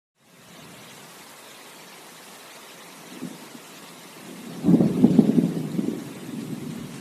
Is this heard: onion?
no